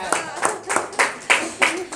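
A group claps hands together in a steady, rhythmic beat at a home prayer meeting, about seven sharp claps in two seconds, with voices heard faintly beneath.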